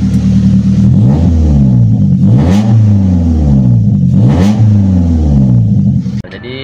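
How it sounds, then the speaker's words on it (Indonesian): A modified car exhaust with a valvetronic valve set to racing mode roars through loud, repeated revs, rising and falling in pitch with sharp blips, close by and alone before a brief drop at the end. "Dan ini mode racing."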